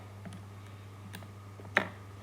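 Keys tapped on a calculator while entering a sum: a few soft, spaced clicks and one sharper press near the end, close by, over a steady low electrical hum.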